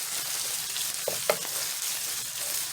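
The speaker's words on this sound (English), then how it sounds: "we're going to go ahead and add our 4 garlic cloves. And mix very well." Four garlic cloves hit hot oil in a pan for Cajun dirty rice and sizzle steadily, with a couple of brief scrapes and knocks as the mixture is stirred.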